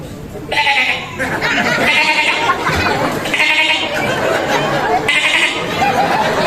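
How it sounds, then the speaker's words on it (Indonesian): A baby goat bleats in repeated bursts, three or four wavering calls standing out loudly over a steady crowd murmur and background chatter. "Itu anak kambing."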